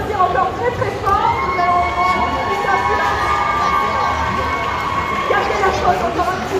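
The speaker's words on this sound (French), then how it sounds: "Et vous pouvez encore applaudir encore très fort." Audience at a cosplay contest cheering and shouting loudly, with high voices and whoops layered over crowd noise and some speech.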